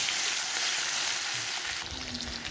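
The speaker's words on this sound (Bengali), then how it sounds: "আমি গোটাই একটু কুচি করা পেঁয়াজ আর দুটো লঙ্কা দিয়ে আমি পেঁয়াজটা ভেজে নেব" Chopped onion and green chillies fry in a pan with a steady, close hiss and sizzle that briefly crackles louder near the end, with no voices.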